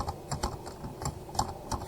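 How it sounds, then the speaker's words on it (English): Quick keystrokes on a computer keyboard while entering a Python print command, a handful of crisp clicks in an uneven rhythm, close by with no talking. "So what you're going to do here is type in print"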